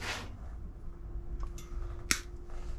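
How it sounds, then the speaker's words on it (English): A single sharp snip of wire cutters severing a wire on a custom bobber motorcycle wiring job, close and brief, with a few smaller clicks around it in a quiet workshop. "We can snip that in half now."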